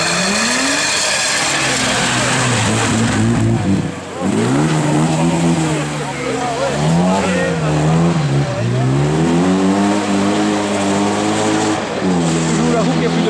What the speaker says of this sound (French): La roue qui a plus de pneus qui patine.